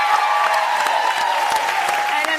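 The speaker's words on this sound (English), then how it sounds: "Give him a round of applause." Studio audience applause on a morning television talk show, a steady loud burst of clapping through the whole stretch with a voice speaking over it.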